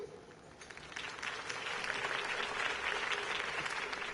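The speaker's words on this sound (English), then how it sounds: "could have heard that applause" A crowd bursts into applause at a speech in a Batman video game, clapping swelling from faint to a full, steady roar and holding there.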